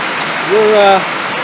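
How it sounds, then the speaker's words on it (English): Heavy storm rain pours steadily onto a workshop as a loud, continuous broadband wash, with a voice speaking briefly over it midway. "What you're hearing is some serious stormage going on here."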